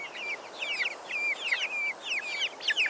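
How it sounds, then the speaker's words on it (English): Three-week-old Cornish cross meat chicks on pasture give a rapid string of high, repeated peeps and chirps, close and clear over a faint background hiss. "3-week-old Cornish cross chicks."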